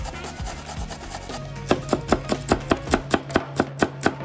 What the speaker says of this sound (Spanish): lo primero que tenemos que hacer es picar la cebolleta china